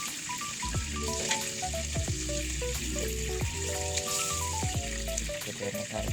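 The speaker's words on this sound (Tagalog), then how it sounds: "Yun na natin ang ating chicken na niluluto." Chicken frying in a pan, a steady close sizzle throughout with a tune playing over it.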